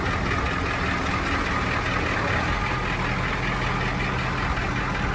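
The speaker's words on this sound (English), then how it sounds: "diesel engine." A 1990 International 4600 rollback truck with 139,000 miles sits idling with its diesel engine running, a steady, loud, low rumbling drone with no voices.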